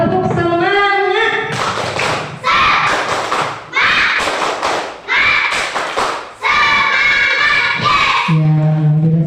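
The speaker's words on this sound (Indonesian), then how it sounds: "Ayo kita tepuk semangat dulu supaya lebih semangat." Students in an Indonesian classroom perform a rhythmic group clapping chant, with bursts of sharp claps and shouted voices in quick patterned sets, while a teacher talks before and after.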